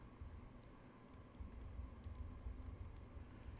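A computer keyboard is typed on, entering an address into a map search bar, giving a quiet, steady patter of soft key clicks throughout.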